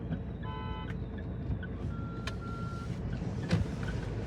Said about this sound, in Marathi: तो रिव्हर्सला घेतोय गाडी, गाडी रिव्हर्सला घेतोय तो